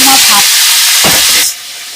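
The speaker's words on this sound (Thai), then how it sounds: "ผัดเร็วๆเลยเนาะจ้ะ ผัดแป๊บเดียวนะจ๊ะ" Pasta is stir-fried fast in hot oil in a wok, a loud, close, bright sizzling hiss with a brief stirring clatter, cutting to a quieter hiss near the end.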